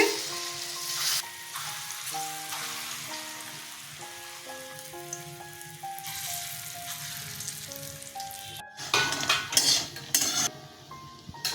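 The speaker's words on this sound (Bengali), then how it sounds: "বড়াগুলো ভেজে নিচ্ছি" Poppy seed and lentil fritters fry steadily in a pan, a continuous sizzle with occasional utensil clinks, while soft background music plays throughout.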